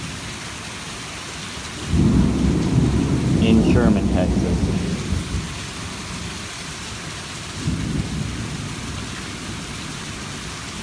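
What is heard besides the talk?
rain and thunderstorm in Sherman, Texas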